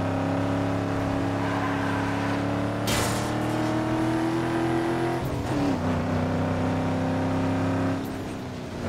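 An SUV engine in the racing game Need for Speed Underground 2 drones steadily at close range, pitch rising slightly as it accelerates, then dipping briefly and climbing again, with no voices.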